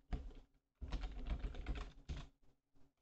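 Quick bursts of keystrokes on a computer keyboard as a console command is entered for a split-screen Counter-Strike setup, close and crisp with a short pause between runs of typing.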